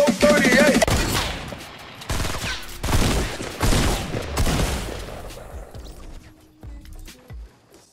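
Rapid automatic gunfire from a Fortnite Battle Royale match, loud bursts of shots with sharp impacts that come in several clusters and then thin out into scattered quieter effects.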